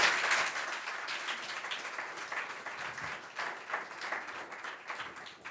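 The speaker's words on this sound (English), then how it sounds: "So I think that deserves a massive round of applause." An audience at a coaching awards ceremony breaks into sustained applause, a dense wash of many hands clapping that holds steady throughout.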